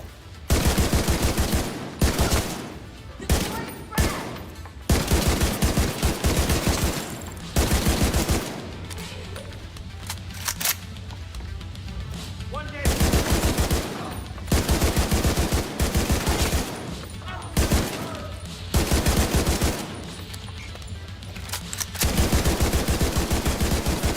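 Turret gunfire in the video game The Division 2 hammers in long, loud automatic bursts separated by short pauses, repeating steadily across the stretch with no talk over it.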